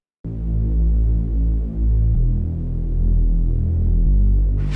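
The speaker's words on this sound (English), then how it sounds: "Add a low-pass saw bass with some white noise." A low, buzzing low-pass saw synth bass in a melodic deep house track holds sustained notes that shift pitch, warm and muffled, with faint white-noise hiss rising at the end.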